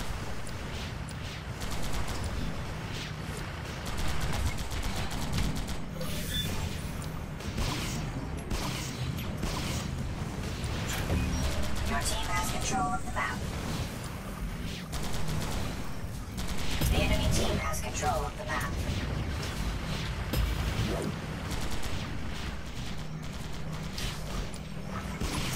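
Rapid bursts of gunfire and weapon sounds from a pain gun in the online shooter Global Agenda, dense and continuous through a busy match, with a voice talking over the action.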